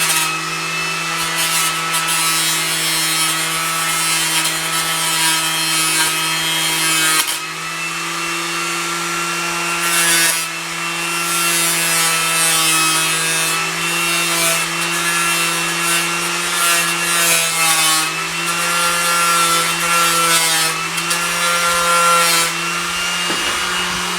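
Fiber board being cut with a wire produces a long, steady, loud rasping drone with a strong constant hum, interrupted briefly partway through. No one talks over it.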